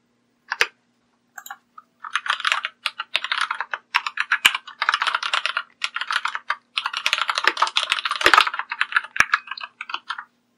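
Rapid clattering keystrokes on a computer keyboard while entering Vue.js component code, coming in steady bursts with short pauses between, close and clear with no talking.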